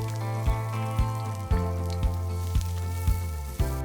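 Shallots sizzle in a few tablespoons of oil in a pan over medium heat, a steady soft frying hiss punctuated by regular small pops and crackles about every half second.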